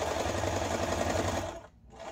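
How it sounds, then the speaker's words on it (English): A sewing machine runs steadily, stitching through fabric and batting at a quarter-inch seam for a coffee cozy, then slows and stops briefly before starting again, close and clear. "Now I'm going to put it in my machine and I'm going to sew at a quarter of an inch"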